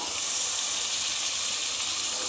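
Raw tiger prawns dropped into hot oil in a pan give a loud, steady sizzling hiss that carries on without a break and is heard alone.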